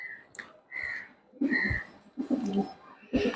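Chinese high-flying pigeons coo in short repeated bursts, close by and fairly clear, with brief pauses between calls and no talking.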